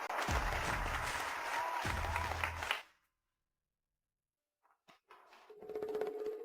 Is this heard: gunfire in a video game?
no